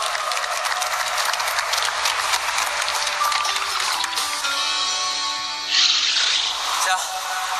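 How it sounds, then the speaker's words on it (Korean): A group claps after a swimming demonstration. The clapping is full and busy at first, then thins into scattered claps under a faint hiss and a few tonal tones. "멋진 수영 보여주신 정다현 선수에게 박수"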